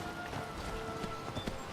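Horse hooves in the Skyrim video game, quick soft clip-clop steps at a brisk pace, faint and fairly distant over a busy ambient background.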